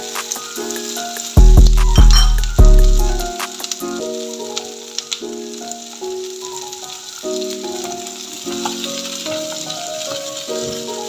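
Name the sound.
sautéing capsicum for chicken Manchurian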